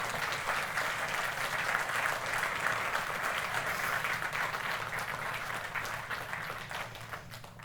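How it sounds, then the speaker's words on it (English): Sustained applause from an audience after a film screening at the SXSW festival, dense steady clapping that fills the room and tapers slightly toward the end. "Yes, keep clapping."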